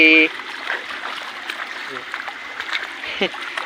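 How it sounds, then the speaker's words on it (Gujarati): Rainwater rushes steadily past in a continuous burbling stream flow, nearby, with a few short voice fragments and small knocks over it. "ઓહો જો કેટલું પાણી જાય છે"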